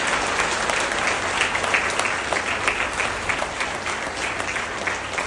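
A crowd applauds steadily at a yoga day health event, the dense clapping holding for several seconds without a break.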